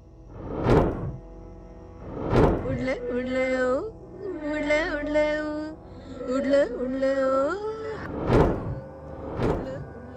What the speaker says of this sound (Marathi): इतक्यात बाहेरून पुन्हा दारावर धडका सुरू झाल्या.